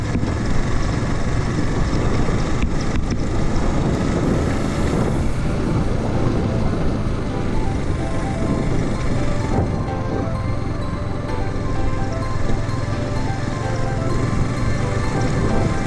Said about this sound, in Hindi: अब यहाँ से बाइक थोड़ा सा तेज़ चलाने को मौका मिला है